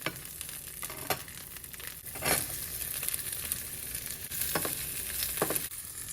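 Shallots and small pieces of ginger sizzle steadily in hot oil for a roasted gram chutney, with occasional scraping stirs of a spatula cutting through the continuous frying hiss.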